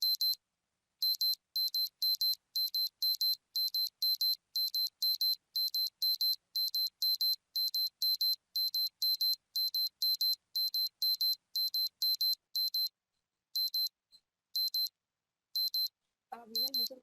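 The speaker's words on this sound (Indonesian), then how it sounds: "Ketika mengalami kecelakaan, alarm notifikasi akan berbunyi selama 20 detik sebelum pengiriman ke database." An accident detection app's alarm notification beeps in rapid repeated bursts, high-pitched electronic tones in a steady pulsing pattern that thins out toward the end, loud and clear over silence, with a brief voice at the very end.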